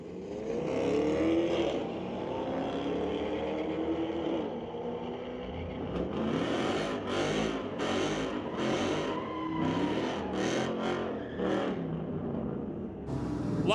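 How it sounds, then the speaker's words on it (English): A Pontiac G8 and a Corvette drag racing side by side on a street-legal night at Mission Raceway Park, loud engines revving and accelerating hard, climbing through gears, then pulling away with a passing roar and fading crowd noise. "A lot of noise the G8 made."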